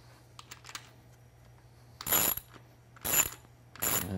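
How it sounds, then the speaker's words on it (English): A hand wrench screwing a bolt into a steering knuckle gives three short bursts of metallic ratcheting clicks, close by, separated by brief pauses with faint handling noise. "Now I'm going to use my wrench."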